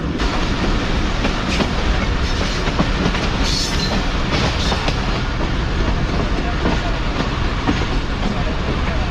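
Subak Raftar railcar braking on approach to a station, heard from on board as a loud continuous rumble of wheels on track with faint squealing. Someone talks over the noise.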